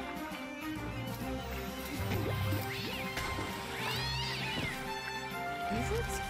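Cartoon cat meows from a Cat Quest video game trailer, several short, bright mewing calls over game music, with a voice talking quietly underneath.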